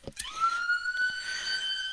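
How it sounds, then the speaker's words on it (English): A siren from an ambulance or fire engine passing near a hospital wails in a steady rising tone with bright harmonics, fairly loud and close, with no talking over it. "That's what we're hearing is the ambulances and fire engines are going by."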